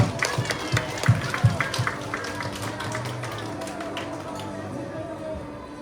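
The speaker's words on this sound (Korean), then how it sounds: "함께 하나님께 박수 치면서 마무리하겠습니다." Children clap at a Sunday church service for a youth department, a few loud rhythmic claps at first that fade into a murmuring crowd with talk and a held musical tone.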